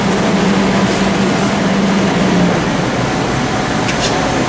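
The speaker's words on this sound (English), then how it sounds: "we will close the valve and begin to filter the fresh new oil back into the machine" A fryer oil filtering machine pumping fresh oil back into a restaurant fryer, a loud, steady mechanical hum and whir with a low drone, close and unbroken throughout.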